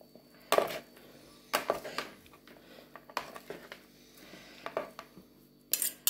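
Warm boiled potatoes with olive oil stirred in a bowl for an oriental potato salad, a spoon knocking and scraping against the dish in several distinct clinks and clatters separated by quieter shuffling.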